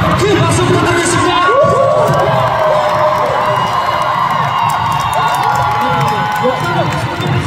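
A large concert crowd at a K-pop music show stage in Paris cheers, shouts and whoops continuously, loud and close, with high excited voices rising over a steady roar and scattered clapping.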